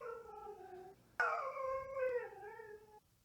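A dog whines and howls in drawn-out, wavering cries while begging for treats; a softer whimper comes first, then a louder, sustained howling whine that bends up and down in pitch before stopping, close up and without other voices.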